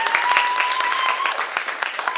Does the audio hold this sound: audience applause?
yes